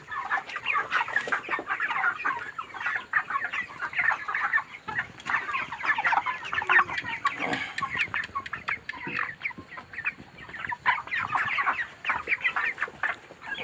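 A dense crowd of broiler chickens clucks and chatters continuously inside a poultry farm shed, a loud, unbroken layered din with no talking.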